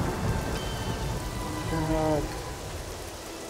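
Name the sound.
rain starting in the video game Fable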